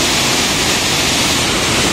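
Kothapalli waterfall roars in a loud, continuous broadband rush of falling water, steady and close throughout.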